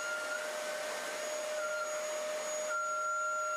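A high-pitched whine from a vacuum-cleaner-powered air engine, with sustained tonal hum, running steadily up close with a slight shift near the end.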